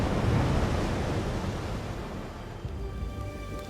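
Ocean waves surge and wash in a broad, rushing roar that is loudest at first and then slowly eases into a softer, fading hiss, with no voices.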